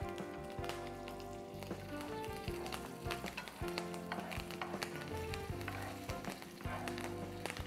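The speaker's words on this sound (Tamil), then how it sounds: "ஸோ கடுகு வந்து நல்லா பொரிய ஆரம்பிச்சிருச்சு." Mustard seeds popping in hot oil with urad dal, chana dal and curry leaves, a dense, close crackle of rapid sharp spits and pops over a constant sizzle, with no voices.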